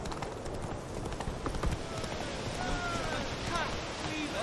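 Roach the horse gallops in Witcher 3, a rapid rhythmic clip-clop of hooves with wind and ambient game sounds over it and a faint voice in the background.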